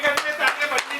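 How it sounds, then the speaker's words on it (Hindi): An audience at an occult summit gathering claps in a quick, uneven series of sharp claps, close and moderately loud, with voices faintly mixed in. "एक बार जोरदार तालियां उनके लिए भी।"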